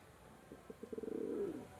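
Pigeons in a loft give a soft, rising run of cooing pulses that swell into a steady coo near the end, fairly close and quiet.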